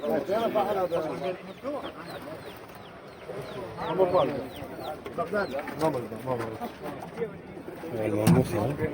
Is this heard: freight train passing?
no